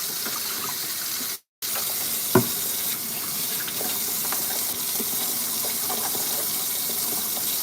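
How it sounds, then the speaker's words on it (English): A bowl is rinsed under a running kitchen tap, a steady, close hiss of flowing water with a brief break and a small clunk partway through. "washing this bowl out"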